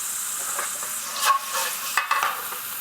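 Garlic ginger paste simmering in about three teaspoons of hot oil for a vegetable bhuna, a soft steady sizzle with a couple of brief stirring clinks, close and fairly quiet, no talking.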